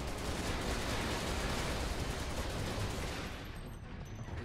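Rapid, continuous gunfire in the video game Final Fantasy 7 Remake during a boss fight, a dense roaring barrage that eases slightly toward the end.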